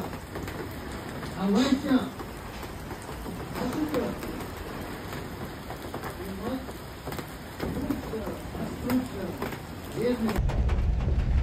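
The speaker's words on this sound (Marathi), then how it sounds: "जोरदार पाऊस पडतोय" Heavy rain pours steadily on an evening of a festival day, a dense continuous hiss with occasional louder surges, while voices and other faint activity come and go beneath it.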